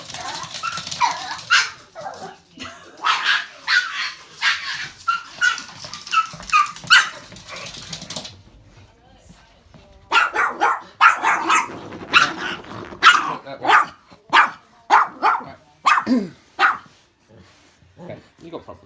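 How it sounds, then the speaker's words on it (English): A three-month-old Chow puppy barks and growls at a Chihuahua in repeated sharp, loud bursts, with a brief lull midway before the barking resumes; people can be heard talking underneath. "You've got an insecure dog."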